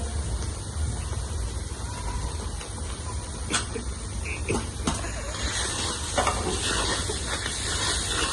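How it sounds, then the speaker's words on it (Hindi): Spices, salt and turmeric stirred into tomato puree in a pan, giving a steady close sizzle with scraping stir strokes for several seconds, a few sharp clinks near the middle, no talk. "टमाटर की प्यूरी में मसाले भी डाल देते हैं, नमक, हल्दी, नमक और मिर्च मसाले सब"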